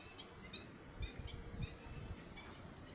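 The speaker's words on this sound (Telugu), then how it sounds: "వినబడుతున్నాయా మీకు పక్షుల యొక్క రాగాలు, కిలకిల రాగాలు?" Birds chirp in the morning outdoors among trees, with a few faint, brief calls scattered over a quiet background.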